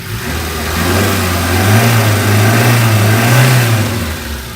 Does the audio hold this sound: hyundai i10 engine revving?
yes